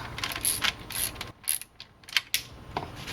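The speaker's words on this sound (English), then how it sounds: "don't want to tighten it all the way, so I can insert all the bolts" Ratcheting clicks in short bursts as intake manifold bolts are started by hand on a Mercedes-Benz W202 C280, close and fairly loud with brief pauses between runs, no talk.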